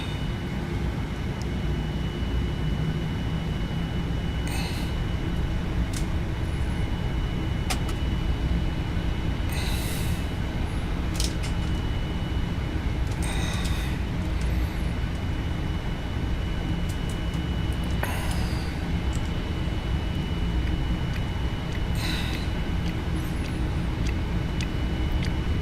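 QualityWings Boeing 787-10 airliner taxiing in the Prepar3D flight simulator, a steady loud engine drone and rumble running throughout with occasional brief higher-pitched clicks and hisses over it.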